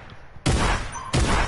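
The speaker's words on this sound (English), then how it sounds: "The shotgun goes crazy" Two heavy shotgun blasts go off in a PS4 video game about two-thirds of a second apart, each a loud, close boom with a short ringing tail.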